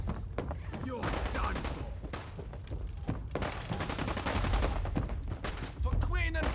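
Dense gunfire bursts and shots in a Fallout London battle, continuous and loud throughout, mixed with shouting voices and speech.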